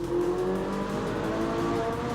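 A Ferrari 458 Spider's engine drones loud and close, holding a steady high rev with slight pitch wavering, no voices over it.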